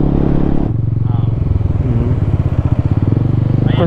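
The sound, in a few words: motorcycle engine riding on road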